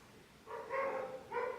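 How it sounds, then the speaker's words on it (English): Several neighborhood dogs bark from a distance: two or three faint barks spaced apart over a quiet background. "They're always barking."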